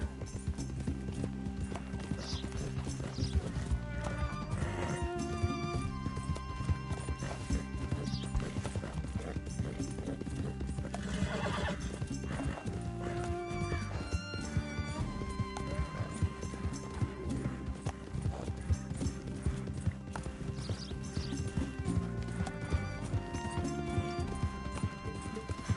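A horse in Red Dead Redemption 2 gallops with steady rhythmic hoofbeats throughout, giving occasional neighs and whinnies over a continuous game soundtrack and ambience, with no talk.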